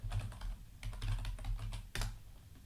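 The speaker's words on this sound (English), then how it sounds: "you can see me typing in here" Fingers type rapidly on a computer keyboard, a close run of clicky keystrokes in uneven bursts with a brief pause and a sharper key hit near the end, over a low steady hum.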